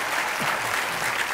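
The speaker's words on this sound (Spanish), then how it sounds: "Aplaudan algo." Brief burst of studio audience applause on a Spanish-language comedy talk show, a dense, steady wash of clapping with a faint voice briefly audible underneath.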